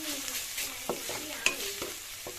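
Ginger-garlic paste being stirred in a pan for mushroom fried rice, with a soft steady sizzle under repeated scraping and clinking strokes of a spoon, heard close and fairly quiet.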